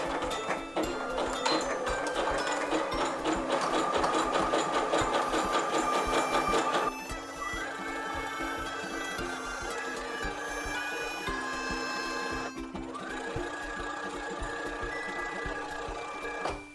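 A sewing machine stitches the full length of fabric for a face mask, its needle tapping in a fast, even mechanical rhythm that shifts pace partway through, close and clear with no talk.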